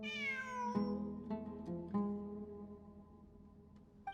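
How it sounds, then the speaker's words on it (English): A cat meows in the video game Genshin Impact: a long, drawn-out tonal cry at the start, followed by a few shorter, softer meows at moderate loudness, with no talking over it. "It really is a cat."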